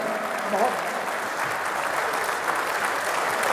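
An audience at an international Urdu poetry mushaira in Muscat, Oman bursts into sustained applause, a thick steady wash of clapping filling the hall without a break.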